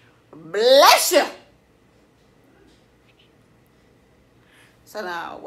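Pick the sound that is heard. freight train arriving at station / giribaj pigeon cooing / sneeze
sneeze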